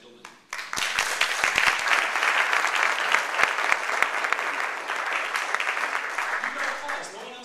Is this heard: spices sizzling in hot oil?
no